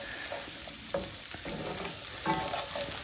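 Garlic sautéing in a pan, a quiet steady sizzle with a few soft stirring scrapes and taps, close and low in level.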